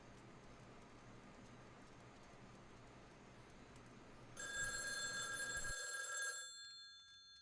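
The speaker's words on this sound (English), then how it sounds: "We got the telephone here." A telephone in a cabin in Friday the 13th: The Game rings with a bright, electronic bell tone for about two seconds over quiet game ambience, then cuts off abruptly.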